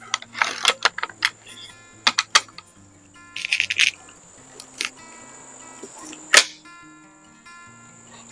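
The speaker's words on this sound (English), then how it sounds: "That noise you hear when I open the bolt," Spring-loaded bolt on a Benjamin Sterling HR81 air rifle being opened, heard as sharp metallic clicks and clacks scattered across the clip, close and fairly quiet, with a brighter snap near the end.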